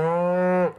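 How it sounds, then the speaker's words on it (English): A single cow on a Montana cattle and sheep ranch gives one loud, steady moo close by that cuts off abruptly. "Eric Costa's family has been raising cattle and sheep on this Montana ranch for 100 years"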